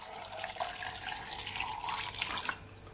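Water poured from a container into a blender jug holding ginger for a lemonade ginger drink, a soft, continuous splashing stream lasting a few seconds.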